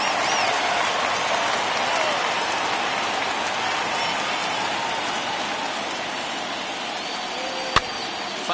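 A baseball stadium crowd of over 39,000 at a 2021 World Series game between the Astros and Braves roars steadily, a dense continuous wash of cheering with one sharp crack near the end.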